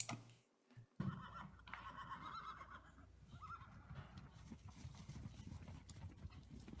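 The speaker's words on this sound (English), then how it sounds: "I have found this little video showing this return of the horses here." A herd of wild horses comes back in a flurry of hooves on the ground, with neighing and whinnying above it, heard outdoors and continuing steadily after a short pause near the start.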